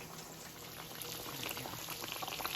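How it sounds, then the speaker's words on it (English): Vegan pork chops fry in oil, sizzling and crackling steadily, a close, continuous bubbling hiss that grows slightly louder. "They're still frying."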